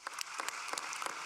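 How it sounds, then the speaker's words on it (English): Applause from delegates at a FIFA congress after a budget approval, a steady wash of clapping with a few sharper claps standing out, moderately faint and with no voices over it. "So this deserves a big round of applause."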